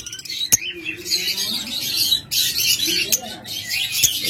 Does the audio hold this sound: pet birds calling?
yes